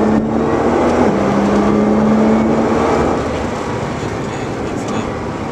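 A Nissan GT-R lapping Knockhill circuit in heavy rain, its engine holding a steady drone that rises slightly in pitch then eases off, with road and spray noise throughout and a voice talking over it.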